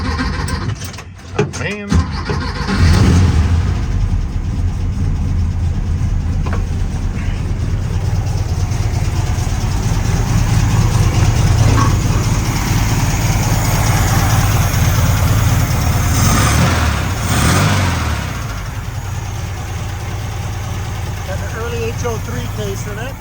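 A 1967 VW Bug with its original air-cooled engine cranks briefly, then catches and settles into a loud, steady, rumbling idle that runs close and continuous, with a short exclamation from a man near the start.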